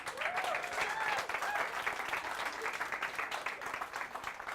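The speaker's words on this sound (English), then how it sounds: "Another big round of applause for Omar." A small audience at a comedy show applauds steadily, the clapping faint and fairly even, with a few brief whoops or cheers rising over it early on.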